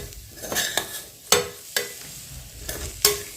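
Masala roasts for brinjal rice (vangi masala bhat) in a hot pan, with loud close scraping stirs at a brisk irregular rhythm over a constant sizzle, no voices.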